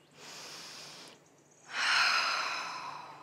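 Two deep, breathy inhalations and exhalations close to the mic during a yoga flow, the second one louder and longer, with no speech.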